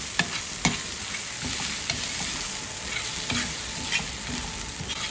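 Chopped onion frying in a pan for Maharashtrian brinjal bharit, stirred with salt: a steady bright sizzle broken by a few sharp scraping clicks from the stirring, with no voices.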